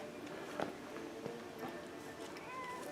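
A few soft, short meows from a cat nearby, quiet against light background noise and some faint shuffling.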